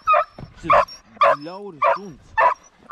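Hunting dog giving voice while driving game on a hunt, a series of sharp yips and barks at a steady rhythm, with speech mixed in among them.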